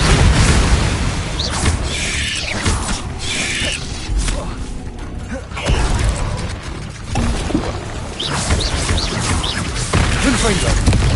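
Spell explosions from Confringo and Bombarda in the Hogwarts Legacy video game, loud repeated booms and crashing blasts over several seconds, mixed with game effects and a voice casting.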